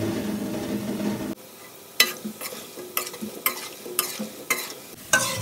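Gulab jamun frying in oil on a low flame, with a quiet sizzle broken by a series of sharp, irregular stirring clinks and scrapes against the pan, close by, no voices.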